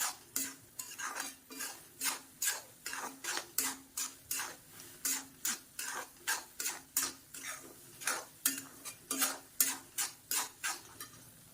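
Semolina roasting dry in a heavy pan is stirred with a spoon in a steady rhythm of about twenty scraping strokes, close and clear, with a faint sizzle underneath and no talk.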